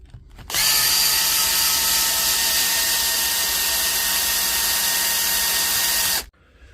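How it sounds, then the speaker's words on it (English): A power drill runs at high speed in one continuous whine for about six seconds, backing screws out of a power tool's side housing. It starts and stops abruptly and is loud and close. "So the first thing we got to do is get all the screws out of the side and the screws out of the front here"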